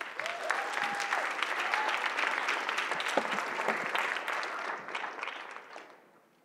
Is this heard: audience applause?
yes